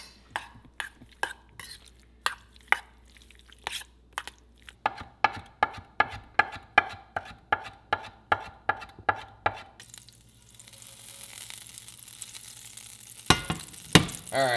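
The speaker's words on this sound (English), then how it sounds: "we're gonna get started here sauteing some onions" Onions go into a pan to sauté. A run of sharp, rhythmic knife chops comes first, then a continuous sizzle builds, with a few clanks of utensils near the end.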